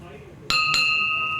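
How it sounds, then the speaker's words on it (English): A Star Trek prop bell is struck twice in quick succession, each strike leaving a clear, sustained metallic ring that lingers over room noise. "Come on. Ring the bell."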